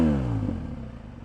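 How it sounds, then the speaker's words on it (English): A BMW R 1200 GSA motorcycle with an Akrapovic slip-on exhaust gives a short, throaty rev that falls away within about a second. It sounds close and moderately loud, with no talk. "the Akrapovic exhaust, clearly not a full system, it's a slip-on with the GSA, but nevertheless it's incredibly throaty"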